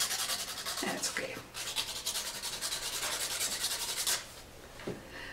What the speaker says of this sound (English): Of course, I should have changed my sandpaper.